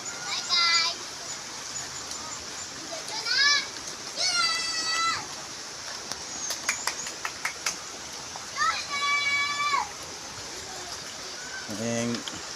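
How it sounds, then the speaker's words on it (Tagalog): Children bathe and splash in an afternoon rainstorm, with steady rain hiss throughout under bursts of children's shouts and high squeals, plus a few sharp splashes. "Mga bataon ligo sa ulan"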